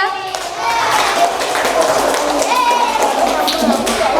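Children clap in a school group setting at a museum, sustained applause celebrating winning teams after a quiz, steady dense clapping with a bustle of kids in the background.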